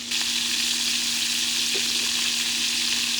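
Gambas prawns frying in a pan for paella, a loud steady close sizzle with a constant crackle throughout and no talk.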